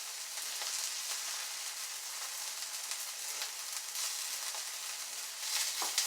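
Chickpea patties fry in a pan with a steady bright sizzle and crackle of hot oil that runs close and even throughout, with a few sharper pops near the end and no talking.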